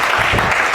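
A church congregation at a sermon breaks into steady, dense applause, a loud continuous clatter of many hands filling the room.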